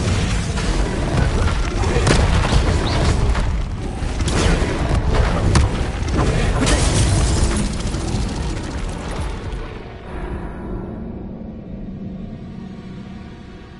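Fiery blasts from the Incendio spell in Hogwarts Legacy, a loud, dense roaring burst of booming rumble that holds for about ten seconds, then drops away to a quieter low rumble.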